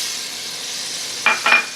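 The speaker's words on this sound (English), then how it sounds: "it's okay to add our onion" Chopped onion, with thyme, hits melted fat in a pot for roasted squash mac and cheese, giving two short bright sizzling bursts over a low steady background hiss, close and brief.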